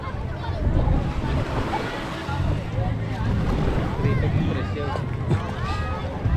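Bangka boat noise on open water with rushing waves and gusting wind buffeting the microphone, while people call out loudly over it.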